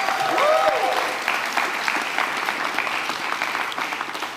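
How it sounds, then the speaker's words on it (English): Applause from an audience at a New York City education announcement by the mayor: a sustained wash of many hands clapping across the whole stretch, steady and fairly loud, with a brief whistle-like tone near the start. "Everyone give each other a round of applause for that."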